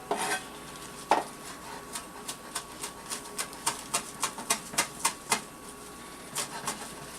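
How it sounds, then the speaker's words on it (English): Knife chopping vegetables on a cutting board for homemade tomato soup: a steady series of sharp, close taps at an unhurried, even pace, with a brief pause before a few last strokes. "grab a knife, and you're going to want to chop these up."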